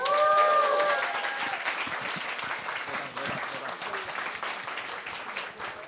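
Wedding reception guests burst into loud applause that gradually thins out over several seconds, with a few whoops and scattered voices among the crowd.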